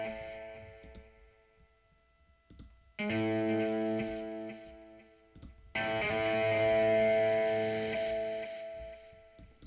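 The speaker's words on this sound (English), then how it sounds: "I give it a splash of reverb." Two distorted electric guitar chords ring out and sustain with a wash of reverb, separated by a quiet gap with faint clicking.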